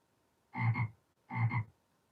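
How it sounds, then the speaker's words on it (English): A frog croaks twice indoors during a music class, two evenly spaced, fairly loud double-pulsed croaks with quiet between them. "Oh, it's a frog. Sounds like we have a frog in here."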